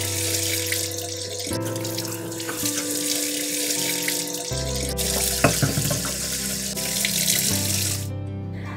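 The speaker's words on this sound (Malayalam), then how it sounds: "ഇനി ഇത് നമുക്ക് നല്ല വൃത്തിയായിട്ട് കഴുകിയെടുക്കാം." Running tap water over a stone grinding slab (ammikkallu) being washed clean, a steady loud gush with shifting pitch as the flow strikes the stone, plus occasional knocks and scrapes, and no talking.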